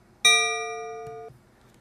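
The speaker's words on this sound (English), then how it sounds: "Also, we can add the bell." A single bright bell strike rings out clearly with a sustained metallic tone, holding for about a second before being cut off, with faint room noise after.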